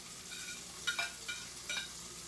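Salmon fish cooks gently in a pan on low heat, giving a faint, steady background sizzle with a few soft stirring clicks and scrapes near the middle, with no talking.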